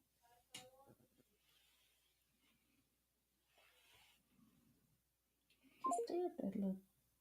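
Touch-tone telephone dialing for a call to a phone line on a live show, a few short tone bursts near the end after quiet shuffling and clicks, with no talk over it.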